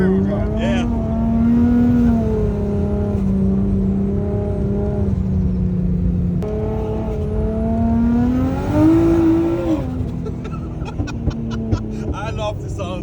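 A Nissan R32 or R34 GTR in four-wheel drive on snowy streets in Finland, its engine droning steadily close by and rising in pitch as it revs, with voices faintly audible in the cabin.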